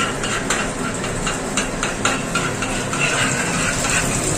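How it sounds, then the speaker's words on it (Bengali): Spices frying in hot oil for a tadka tempering for boiled dal, a steady sizzle with scattered metallic stirring clinks and utensil knocks throughout, fairly close and continuous, with no talking. "এখন এই তড়কাতে দেওয়ার জন্য ফোড়ন তৈরি করছি"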